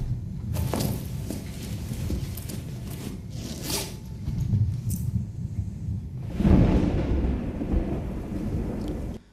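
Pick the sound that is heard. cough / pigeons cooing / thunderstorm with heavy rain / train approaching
thunderstorm with heavy rain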